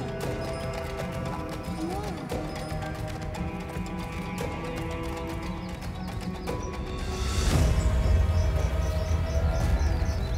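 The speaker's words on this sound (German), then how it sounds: "Wir lassen das Pferd vorbei." A horse passes a group on a trekking trail, its hooves clip-clopping in an irregular rhythm close by, with a rush of wind or movement swelling louder in the second half.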